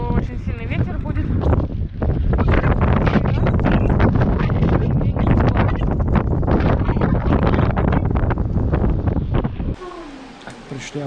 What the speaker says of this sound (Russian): Ветер такой прям, как в Питере, наверное. Такой мощный.